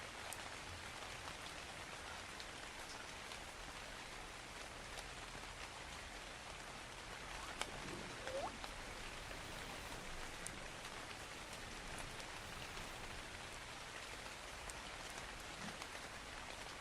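Steady, soft rain falls in the game ARK: Survival Ascended, a faint, even hiss of drops with no voices over it.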